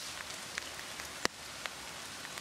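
Steady rain falls during a thunderstorm in open countryside, a dense even patter on surfaces nearby with occasional sharper drops and one brief loud tap, no voices present.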